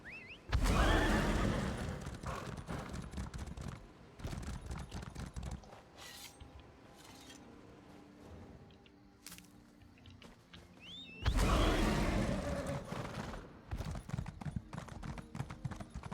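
A horse in the video game ESO neighs and whinnies while its hooves clip-clop in steady strides, with two loud bursts at the start and near the end and quieter hoofbeats between.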